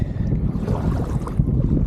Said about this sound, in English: I hope you can hear because it is crazy windy.